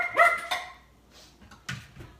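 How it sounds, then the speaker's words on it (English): Dogs bark a few times at close range, two sharp barks followed by a softer, later bark, with no talking over them. "See why the dogs are barking?"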